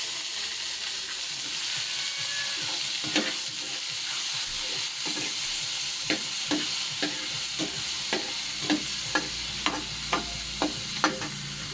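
Tomatoes hit a hot pan while sautéing for ginataang scallop, a steady sizzling hiss with a series of sharp stirring clatters and taps growing denser toward the end, no talking.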